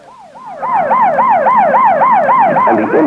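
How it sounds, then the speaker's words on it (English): An ambulance siren wailing during a 1974 tornado emergency in Huntsville: loud, close, rapid up-and-down yelp cycles repeating steadily for the whole stretch. "All available ambulances in Huntsville are now dispatched to the tornado scenes."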